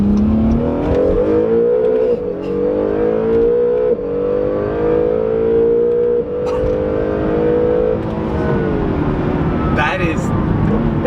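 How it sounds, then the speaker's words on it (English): Supercar with electric motors and a turbo accelerating hard, a loud, steady rising drone with climbing tonal whine heard from inside the cabin, continuous for several seconds with small dips. "That is a weird sensation, that acceleration right there."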